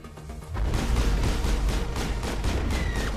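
Sustained gunfire in the video game Mass Effect, a dense continuous barrage of rapid shots and booms that kicks in after a quieter half-second and rolls on loudly to the end.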